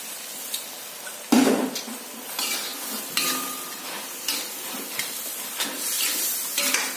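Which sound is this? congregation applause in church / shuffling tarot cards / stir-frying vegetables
stir-frying vegetables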